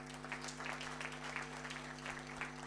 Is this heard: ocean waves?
no